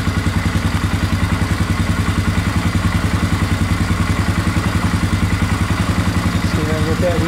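A 1996–1999 Polaris ATV engine runs steadily at a close, loud idle with a fast, even pulsing throb, and a faint voice comes in near the end.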